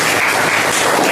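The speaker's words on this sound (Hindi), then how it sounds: "और होनी चाहिए उन बच्चों के लिए जोरदार तालियां" An audience at a coaching class event gives loud, dense applause, a steady wash of many hands clapping close by with no talk over it.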